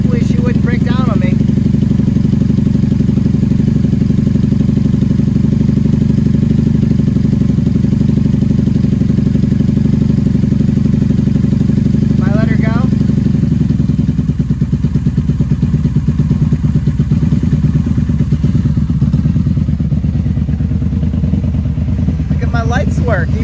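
A 1994 Honda Magna motorcycle engine runs steadily at idle throughout, a loud continuous low rumble with brief revs, while a person talks over it.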